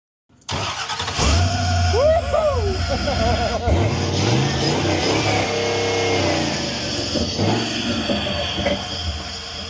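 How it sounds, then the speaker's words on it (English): A Jeep with a five-speed manual fires up at a beach Jeep event and revs hard, its engine roaring loud and close as the pitch climbs and falls, with voices talking alongside. "So you want to fire her up, and we'll see what those ponies sound like."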